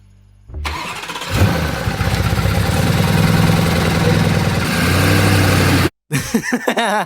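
A crashed Lamborghini Urus starts up loud and close, its engine catching with a roar and then settling into a rough idle before it suddenly cuts out. A brief uneven sputter follows.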